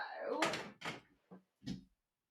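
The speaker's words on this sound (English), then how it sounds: "Let me just close this door." An indoor door is pushed shut with a creak and a few soft knocks and thuds as it settles into the frame, quiet and close, with some faint voice sound mixed in.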